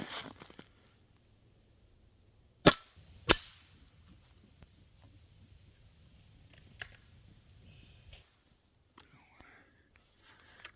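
Ruger Air Hawk Elite II air rifle fired freehand at small swinging targets: two sharp cracks close together, then a couple of fainter, lighter hits or pings later, over a quiet background.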